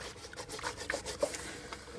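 A soaked stainless steel pan is scrubbed with a scrubber pad, giving steady close rubbing and rasping strokes with a few sharper scrapes, no voices.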